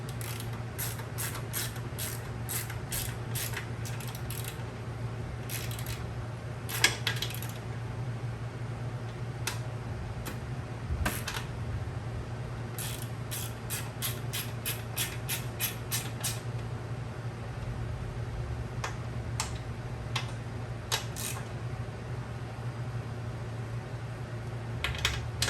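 Exhaust bracket bolts on an AdvanBlack adjustable exhaust bracket being tightened with a hand tool, giving clustered rapid metallic ticks and ratcheting clicks in bursts over a steady low mechanical hum, close by with no talking.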